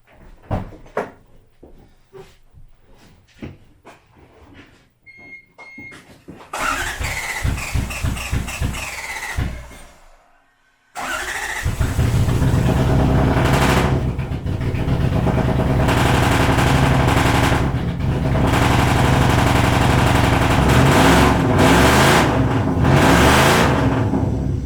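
A Toyota Cressida fitted with a 1UZ V8 turns over with scattered clanks and a cranking burst, goes briefly quiet, then catches and roars into a loud, steady run close by.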